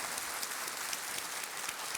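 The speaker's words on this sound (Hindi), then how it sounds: "तालियां बजती रहें स्वप्ना जी के लिए" A studio audience claps for a contestant on a TV quiz show, giving a dense, even wash of applause throughout, moderately loud with no voices over it.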